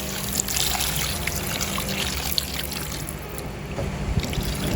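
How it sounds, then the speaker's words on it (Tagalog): Water runs steadily into a cooking pot for Filipino fish sinigang soup in tamarind broth, a continuous close trickling splash with small bubbling accents and no talking. "At lagyan na din natin ng tubig,"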